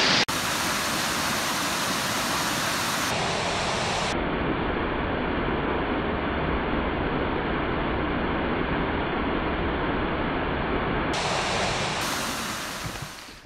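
A waterfall in northern Maine woods on a rainy autumn day, a steady, loud, broadband rush of falling water that holds constant throughout with no voices.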